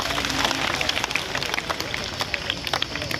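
Applause from a crowd of students at a school science exhibition, brisk scattered clapping over a steady babble of voices, lasting a few seconds.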